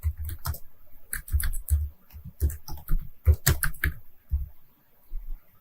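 Computer keyboard keys are tapped in quick irregular bursts of crisp clicks, close and clear, with short pauses between words.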